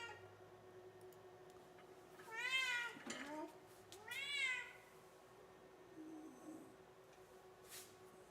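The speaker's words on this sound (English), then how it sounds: "I have a cat who wants some attention." A house cat meows for attention, two drawn-out rising meows close by and a fainter third, over a quiet room hum with no talking.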